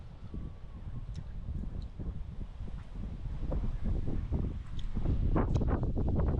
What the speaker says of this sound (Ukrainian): З таким вітром взагалі не чути нічого навіть, що сам говориш.